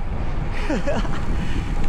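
Strong wind roars steadily across the microphone during a windy bike ride, a loud, constant low rumble with a faint voice briefly under it.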